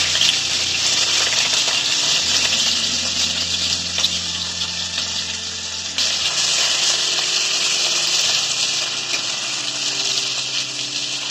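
Carrots go into a hot frying pan with whole cloves, cardamom and cinnamon for fried rice, giving a steady loud sizzle with a brief surge as they hit the oil.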